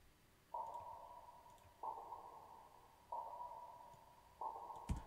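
Four evenly spaced rim hits in a UK rap beat ring out with a long reverberant tail, each decaying slowly before the next, quiet and hollow-sounding.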